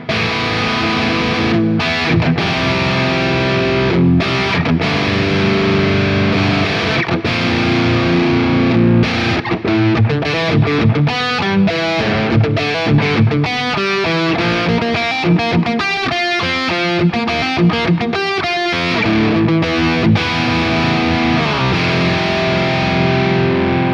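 Heavily distorted electric guitar playing chords and riffs on a Quad Cortex, drenched in a roomy hall reverb mixed at 35% with a short 2-second decay, loud and continuous.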